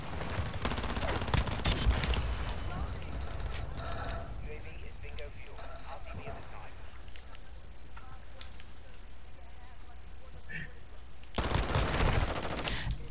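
Call of Duty Modern Warfare II gunfire: loud automatic bursts at the start and again near the end, with quieter intermittent shots and a voice talking in between.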